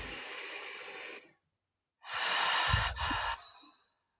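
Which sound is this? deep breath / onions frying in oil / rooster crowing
deep breath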